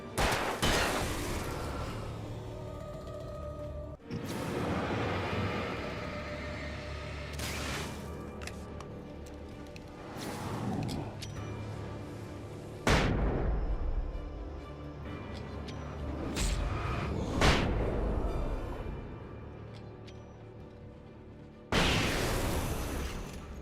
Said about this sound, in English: I'm liking the flashbangs.